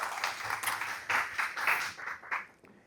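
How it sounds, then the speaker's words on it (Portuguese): Applause from a talk show audience after a guest is introduced, a short burst of clapping that swells, then tapers off over about three seconds with no talk. "Uma salva de palmas, por favor."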